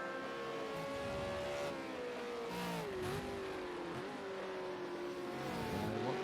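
V8 Supercar racing at the Bathurst circuit heading toward Griffins, a high engine note sustained at full throttle with pitch dips at gear changes and brief tire noise, loud and continuous.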